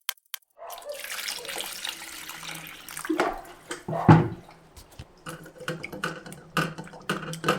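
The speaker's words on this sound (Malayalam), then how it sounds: "നല്ല വൃത്തിയായിട്ട് നമ്മൾ ഇതുപോലെ ഇങ്ങനെ കഴുകി കഴുകി എടുക്കണം" Vegetables for a cooking recipe being washed under a running kitchen tap, a steady splashing stream with clinks and rubbing handling sounds, close and continuous, no voices.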